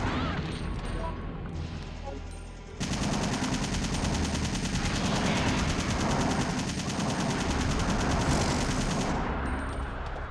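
An assault rifle rattles against Nemesis in Resident Evil 3 on hard mode: steady fire that suddenly swells into a loud, continuous barrage lasting most of the stretch, with the stream thinning slightly near the end.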